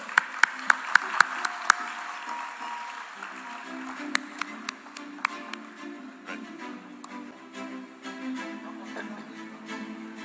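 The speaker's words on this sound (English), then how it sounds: "Round of applause." At a film festival, a few sharp separate claps ring out close by, followed by scattered, fairly faint applause from a seated audience that goes on at a low level under a hum-like tone.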